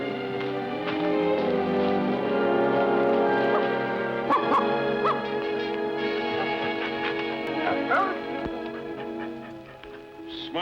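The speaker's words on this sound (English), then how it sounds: "Smart dog." A tracking dog on a scent trail near the Ohio River in a 1952 film gives a few scattered barks and yips over a steady orchestral music score, moderately close, with no talking.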